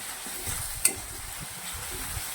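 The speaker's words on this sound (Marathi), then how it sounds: "हलवत हलवत एकजीव करून घ्यायचा आहे" A potato bhaji filling with onion is stirred in a pan, a soft continuous sizzle with low scraping strokes and one brief clink of the spoon, all fairly quiet.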